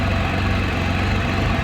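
A car engine idling in a parked vehicle, giving a steady, close, continuous low hum with even vibration and no voices.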